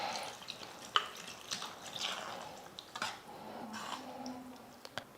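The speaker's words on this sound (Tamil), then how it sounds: "இப்போ கொஞ்சமாக தண்ணி சேர்த்துக்கிறேன்" Water pours into a pan of thick tomato gravy with a soft, faint splashing trickle, broken by a few light clinks and drips against a quiet background.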